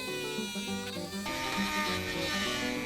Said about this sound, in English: This gray circle right there that I'm about to grind out is full of Bondo